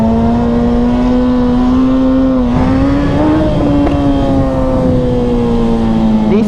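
A Suzuki Hayabusa motorcycle engine holds a loud, steady drone with a slight rise and dip in pitch as the throttle shifts, recorded up close while riding, with no talk.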